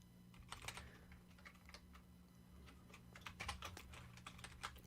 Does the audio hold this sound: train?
no